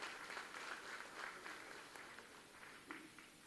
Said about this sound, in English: So I request all the faculty members of CUK and the students a big round of applause to Professor Rajendra Pilangatta and his team